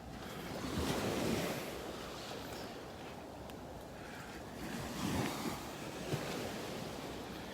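Surf breaking on a beach in North Naples, Florida, heard from behind trees, a steady low wash with two swells of louder waves and light wind noise, no voices.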